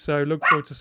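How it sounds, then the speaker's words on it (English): A dog gives a couple of quick, sharp barks, loud and close, overlapping with someone speaking. "Oh, we had a dog bark. That was a dog bark."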